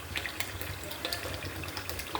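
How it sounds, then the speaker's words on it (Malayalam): Hair oil poured steadily from a container, a faint continuous trickle and splash that holds for the whole stretch with no voices over it. "നമുക്കപ്പോൾ ബാക്കി എണ്ണയും കൂടെ ഒഴിച്ചു കൊടുക്കാം കേട്ടോ."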